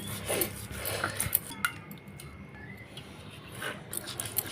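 Mustard seeds and green chillies ground into a paste on a stone slab while cooking drumstick chorchori, giving repeated scraping and rubbing strokes with light knocks, close and steady, no talk.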